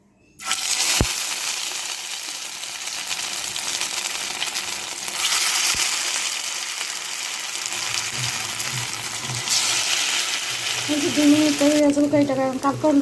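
Filling for kechki fish karkol frying in hot oil in a pan, a continuous hiss of sizzling with occasional clinks and scraping from stirring, growing busier toward the end.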